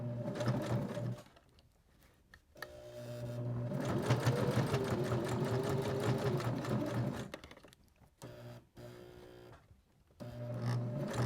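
A sewing machine stitches forward and then reverses along the edge of a fabric scissor holder in several steady, close runs separated by short stops, with no talking.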